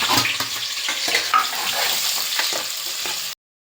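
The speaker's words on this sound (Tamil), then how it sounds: "இப்போ வெங்காயத்தை போட்டுக்கலாம்." Chopped onions hitting hot oil in a pan, giving a loud, dense sizzle and crackle with some stirring, steady throughout before cutting off abruptly near the end.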